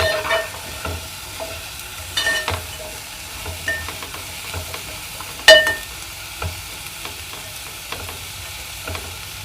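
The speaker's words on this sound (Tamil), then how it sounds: "உப்பு போட்டுட்டு கிண்டி விட்டுக்கலாம்" Salted small bitter gourd poriyal is stirred in a pan over low heat, a soft steady sizzle broken by scattered scrapes and clinks of the spatula against the pan.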